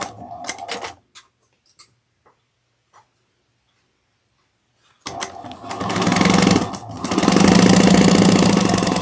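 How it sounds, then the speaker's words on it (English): A sewing machine stitches down the sides of a crossbody bag. A short whirring burst comes first, then a pause with a few faint clicks, and finally a loud, steady run of rapid stitching that builds and holds near the end. "we're going to just sew down the sides"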